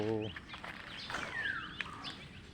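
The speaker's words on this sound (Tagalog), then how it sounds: "ito yung mga bagong sisiw na pato" High, thin peeping of several ducklings, scattered chirps after a brief low voice at the start.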